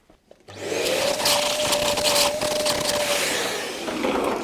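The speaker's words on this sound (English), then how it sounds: "Let's get the new throttle pedal in, but first a bit of vacuuming." A vacuum cleaner runs in the footwell of a BMW E39 530i Touring, starting up after a brief pause and settling into a loud, steady whine with a sustained motor tone and shifting suction noise as the nozzle moves.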